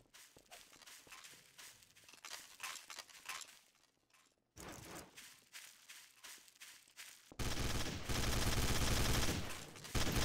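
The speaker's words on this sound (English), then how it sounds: "Gunshot, man. Look out, man." Rapid bursts of gunfire in the video game Garry's Mod (Trouble in Terrorist Town) crackle in quick succession, with scattered footsteps between volleys and a loud, dense barrage at the end.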